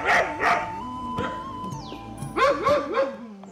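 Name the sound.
dogs barking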